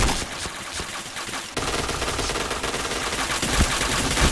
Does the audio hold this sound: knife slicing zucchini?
no